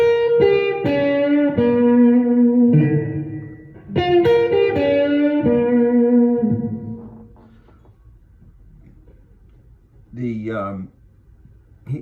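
Electric guitar lick built on mostly major tones: two bright, sustained melodic phrases ring out clearly, followed by a quiet pause and a short spoken comment.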